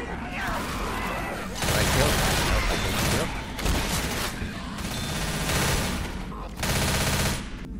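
Repeated bursts of automatic gunfire during a Left 4 Dead zombie fight, loud, close and rapid, with someone talking over the shooting.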